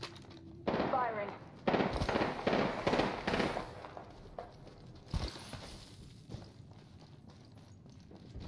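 Bursts of rapid gunfire in the Apex Legends video game, several loud clustered volleys of shots close by, with a player's voice talking over the action.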